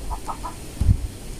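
A chicken clucks three quick soft times, then gives a louder, lower cluck close by, all within about a second and a half, with no talking.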